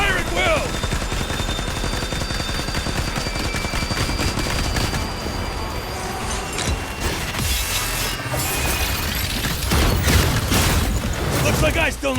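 Sustained heavy gunfire from units firing in the mobile video game Aether Gazer, continuous loud bursts and booms mixed with battle effects and music throughout, with voices in the mix.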